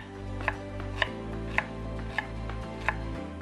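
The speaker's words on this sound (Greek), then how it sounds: "Και πάμε τώρα να το κόψουμε σε μικρά κομματάκια" A knife chops fresh ginger into small pieces on a cutting board, five evenly spaced sharp knocks over a steady low hum, close by with no talking.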